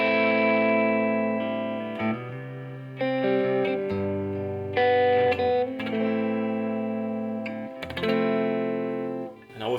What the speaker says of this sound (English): Now engage the reverb.